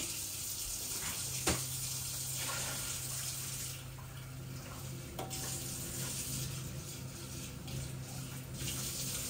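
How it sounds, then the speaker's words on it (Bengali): Dried shol fish is washed under a running tap. Water splashes steadily and fairly loud into a sink throughout, and it shifts a little as the fish is handled. "আমি এটা ধুয়ে নিয়ে আসি"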